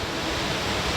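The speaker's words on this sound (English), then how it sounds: "Awesome waterfall here" Waterfall at Battery Rock on a hike, a steady full-band roar of falling water, close and continuous with no break, heard alone without voices.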